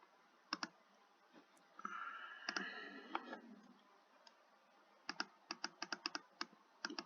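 Computer mouse clicks during a pro cycling management game, sharp isolated clicks early on and a quicker run of repeated clicks near the end, with a faint swell of background music in between.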